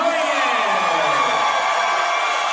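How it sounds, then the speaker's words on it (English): Boxing crowd at a YangYang Li vs Kazeem Soyoye bout cheering and whooping for Soyoye, a steady loud roar of many voices filling the arena without pause. "You can hear the crowd that's supporting Soyoye."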